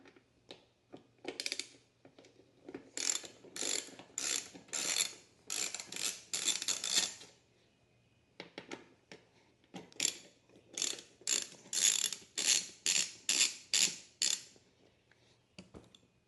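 Bolts being backed out of a rare motorcycle with a ratchet wrench, two bursts of quick, close clicking strokes separated by a short quiet pause.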